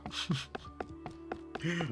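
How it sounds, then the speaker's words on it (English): Chopping wood in the clicker crafting game Forage Wizard: a quick series of about seven sharp, crisp chop hits at an irregular pace, with soft tonal game chimes in between and no talking. "We'll go for regular chopping."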